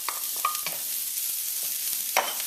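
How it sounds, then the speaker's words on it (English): Onion hits hot vegetable oil in a heated wok, giving a faint, steady sizzle with a few stirring scrapes and clatters over a couple of seconds. "I'm going to go in with some vegetable oil, and right away I've got some onion"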